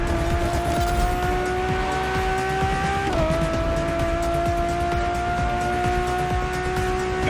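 A Ferrari Enzo in a racing video game roars steadily at high revs, its engine pitch climbing, dipping briefly at a gear shift, then climbing again, with some tire squeal, loud and close throughout.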